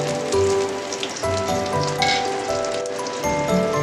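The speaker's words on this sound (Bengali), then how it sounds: "এইবার দেখুন এর সাথে এবার বড়িটা দিয়ে দেবো তেলের মধ্যে" Lentil dumplings (bori) dropped into hot oil for an aloo tarkari, a steady crackling sizzle with scattered pops, joined by a tonal background hum throughout.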